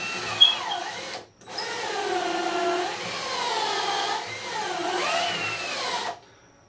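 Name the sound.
power drill making holes in wood stiles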